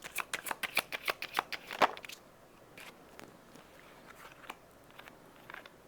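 Tarot cards are riffled and shuffled in a quick run of crisp, close flicks for about two seconds, then a few scattered softer card taps and slides, with no talking.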